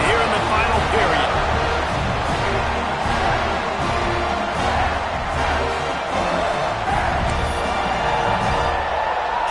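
A packed college football stadium crowd at Clemson roars steadily after a game-tying scoring drive, a dense sustained wall of cheering with scattered whoops and a commentator's voice running over it.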